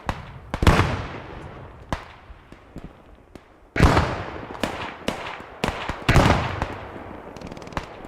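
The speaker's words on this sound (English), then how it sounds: "Chip with the Johnson rifle. Hear that." A Johnson rifle fires in the WWII shooter Squad 44, sharp cracks at irregular intervals with ringing echo tails, some shots close and loud, others fainter and farther off.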